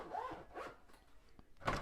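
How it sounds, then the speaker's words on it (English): A zipper on a gun case is pulled shut in a few quick, close rasping strokes, with a louder final tug at the end. "Zip it up."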